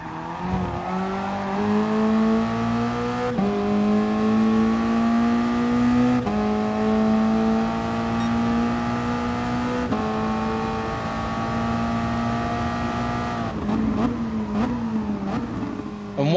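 Race car engine from a Toyota GT racing game, running steadily through a lap on a worn front right tyre, with a continuous loud drone. The pitch climbs and shifts through gear changes, and there is no talk over it.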